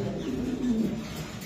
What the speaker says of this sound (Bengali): এটা ভাই বিউটি কবুতর